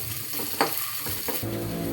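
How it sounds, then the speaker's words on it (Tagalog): Garlic and white onion sizzle and fry in a hot pan with brief stirring scrapes, a close, steady crackle lasting a couple of seconds. "Dahil start na po tayo manggigisa ng ating uulamin for today."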